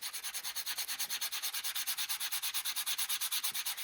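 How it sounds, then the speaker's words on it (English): A sander smoothing a wire eighth note, heard as quick, regular rasping strokes in a steady rubbing rhythm, close but fairly quiet, with no voices. "We're going to take this here sander."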